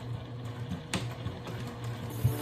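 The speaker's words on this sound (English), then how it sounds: "I'm here at the sewing machine, and I make sure that the flaps are open because we don't want to sew that." A sewing machine stitches a fabric phone bag, a fast, steady mechanical whir of needle strokes close by with a few small clicks, and no voices.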